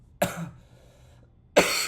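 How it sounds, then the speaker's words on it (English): Two short, harsh coughs from one person, close by, separated by about a second of near quiet. "I have this really bad cough and colds"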